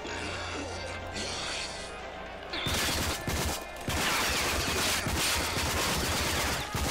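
Rapid automatic gunfire in the shooter game RAGE during the Mutant Bash TV arena; loud, dense bursts of shots fill the second half, following quieter game sounds.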